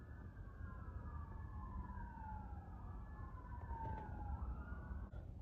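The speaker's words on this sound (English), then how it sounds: "not these fucking sirens" Emergency vehicle sirens wail from outside with long gliding tones that rise and fall, distant and faint over a low rumble of traffic.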